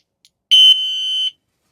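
One sharp, shrill electronic horn blast sounds for under a second, loud and close, with a brief faint click just before it.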